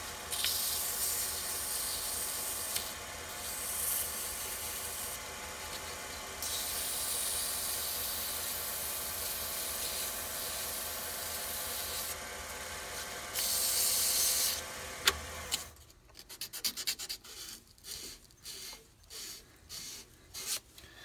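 A hand sands a surface with 320-grit sandpaper in a long, steady close-up rasp that swells and eases as the strokes change, then breaks into short, separate scrubbing rubs near the end.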